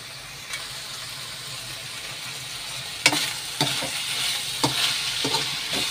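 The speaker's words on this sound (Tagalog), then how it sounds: "Lagay na natin yung gata." Coconut milk poured into a sizzling pan while cooking Bicol Express, a steady close frying hiss with several sharp scraping stirs in the second half.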